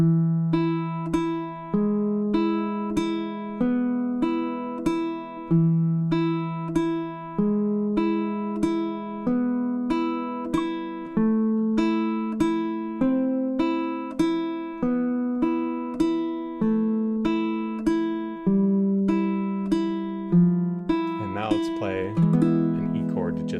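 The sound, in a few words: baritone ukulele playing Malagueña melody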